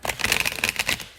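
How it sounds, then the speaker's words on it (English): A deck of tarot cards is shuffled close by, giving a quick burst of crisp riffling flutters that lasts about a second, with no talk. "as always, I will shuffle live"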